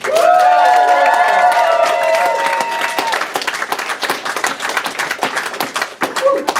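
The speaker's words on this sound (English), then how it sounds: "Can you give a nice round of applause?" Wedding reception guests break into loud applause with scattered cheers and whoops, thinning into individual claps after a few seconds.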